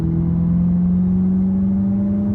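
A big, heavy car re-accelerates after braking, its engine a steady low hum with a pitch that climbs slightly and evenly as it gathers speed, heard from inside the cabin with no talking.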